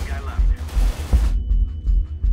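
Gunfire in Counter-Strike: Global Offensive during a Wildfire co-op mission, with several close, heavy bursts of shots punctuating the action and a voice speaking alongside.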